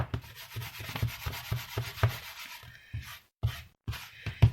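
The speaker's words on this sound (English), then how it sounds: "even if you rub over it with the embossing buddy" An embossing buddy rubbed back and forth over dark cardstock gives steady, close scuffing strokes in a quick regular rhythm, with a couple of brief pauses near the end.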